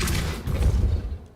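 Depulso force spell cast in Hogwarts Legacy, a brief, dense burst of rumbling impact that fades within about a second.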